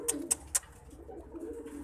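Pigeons coo softly and repeatedly, with a few sharp flutters or clicks early on, close by and otherwise quiet.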